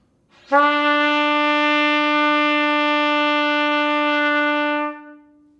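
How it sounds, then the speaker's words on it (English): One sustained trumpet note, E, held clear and steady for about four seconds before fading, played alone and close. "the way we play an E is with the first and second valves"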